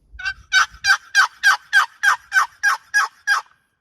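Eleven crisp turkey yelps worked on a box call, a fast, evenly spaced series of sharp raspy notes that speed up slightly, loud and close with no talking over them.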